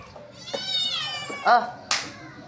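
A cat meows several times nearby in a few short, rising cries, the last one sharp and high-pitched, with quiet gaps between the calls.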